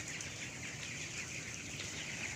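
Young 15-day-old chickens clucking and peeping together in a chorus at moderate distance, faint and continuous with no voices.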